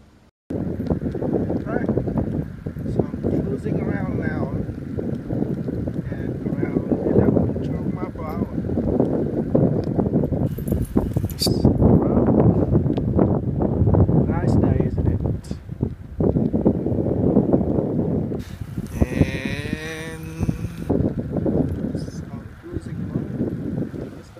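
A homemade electric bike running on DeWalt and Milwaukee cordless tool batteries is ridden outdoors, with steady rushing wind noise and road rumble throughout and someone talking over it.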